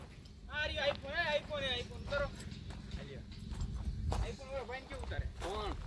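Horse hooves clip-clop in a steady, close rhythm beneath a voice that keeps singing or talking over them for the whole stretch.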